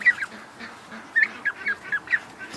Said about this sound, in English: That's not a duck sound, that's a Muscovy sound.